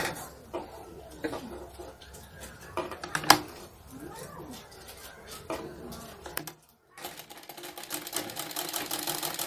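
A sewing machine stitching a lined blouse makes faint, irregular short clattering runs with scattered clicks and handling noises and a brief pause near the end.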